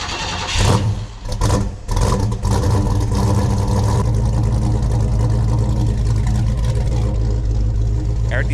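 A Ford Falcon with newly installed exhaust and headers cranks, fires up and settles into a loud, steady, deep idle that rumbles on without a break, after a few short cranking bursts at the start.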